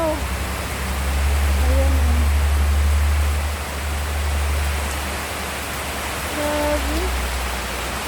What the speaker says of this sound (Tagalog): Hala, lumakas na yung ulan, guys.